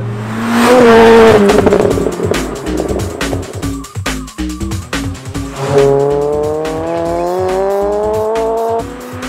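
A 412 hp VW Lupo sleeper with a swapped-in Audi S3 turbo engine screams past, engine note rising through gears with sharp squealing tires, loud and close, then a sustained high revving pull fading near the end.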